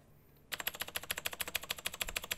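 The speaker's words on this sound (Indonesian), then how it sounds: "Bukan type lah, just tekan keyboard. Ni blue switch tau." A mechanical keyboard with blue switches pressed in a fast, even run of sharp clicky keystrokes, close and loud, starting after a brief quiet moment.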